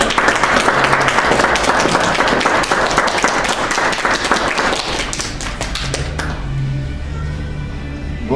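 Audience at a pool tournament opening ceremony in a club, the Ukrainian Cup final in free pyramid billiards, applauding: dense, sustained clapping for about six seconds, then fading into quieter room noise with low murmuring.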